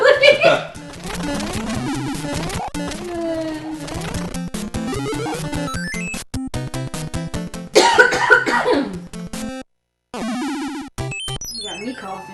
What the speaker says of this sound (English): You got me coughing.